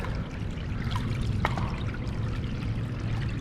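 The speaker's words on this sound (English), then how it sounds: "if I can get a better flow up here, then the water should settle down here" Water flowing steadily through a city creek, a continuous broadband rushing and trickling close by with no voices.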